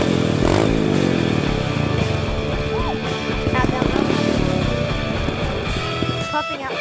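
A motorcycle engine runs loud and rough with revving surges, sputtering and dying out near the end as it stalls.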